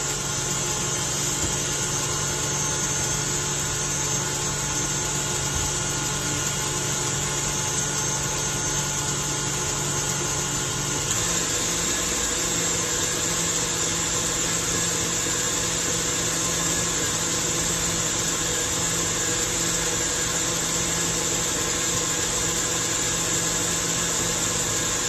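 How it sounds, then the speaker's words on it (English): An electric mixer whipping pumpkin cheesecake filling with pudding, a steady loud motor whir with an unchanging tone that shifts slightly partway through, with no talking over it. "Sorry, I'm boring you through this moment of mixing."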